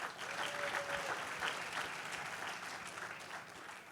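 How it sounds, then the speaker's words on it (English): Sustained applause from an audience, dense clapping holding steady for several seconds at moderate distance. "Give them a round of applause."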